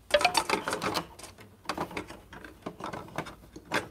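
An HP 8020/8025 inkjet printer fitted with a continuous ink supply prints a four-colour test page, giving quiet, irregular mechanical clicks and whirring bursts of the print head and paper feed.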